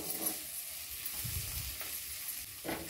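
Onion masala fries on a low flame in a pan, giving a steady soft sizzle and hiss, with low scraping thumps from stirring at irregular intervals.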